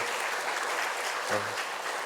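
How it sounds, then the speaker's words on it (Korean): Congregation clapping in a church sanctuary during a Sunday service, a steady broadband wash of many hands with a brief low voice or tone partway through. "우리 큰 박수로 함께 축복하겠습니다"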